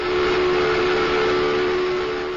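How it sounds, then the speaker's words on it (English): A brewery steam whistle blows one long sustained steady tone, loud and unbroken for the whole stretch with a hissy steam edge. "That's when the last whistle was blown."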